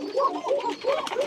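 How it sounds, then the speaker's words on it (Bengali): Pigeons on a farm coo in overlapping, rolling phrases, several soft throaty calls following one another closely at moderate volume. "কবুতরগুলো"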